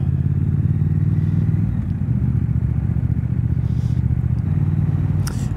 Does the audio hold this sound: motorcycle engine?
yes